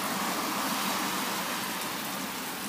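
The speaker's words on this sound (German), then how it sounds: "Es regnet super doll heute." Heavy rain on a cycling trip through China near Xi'an, a loud, dense and continuous hiss that stays fairly even from start to finish.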